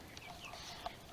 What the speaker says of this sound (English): They are Rhode Island Reds and Easter eggers